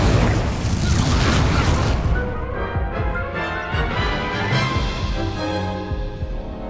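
Fire spell cast in a wizard video game: a loud, dense whooshing boom that roars for a couple of seconds, then trails off into a rumbling, crackling fade, with no talk.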